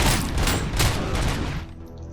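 Dense, continuous bursts of explosions and gunfire-like blasts from the video game Robocop Rogue City fill the first second and a half with loud booms, then fade toward a quieter tail.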